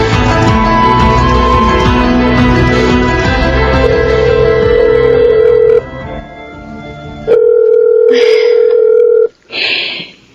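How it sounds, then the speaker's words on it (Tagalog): Telephone call waiting for an answer: loud electronic ringback tones repeat in steady held beeps, with brief pauses between them and a short cut-off at the end. "Sana sagutin na ni Jeric tong tawag ko"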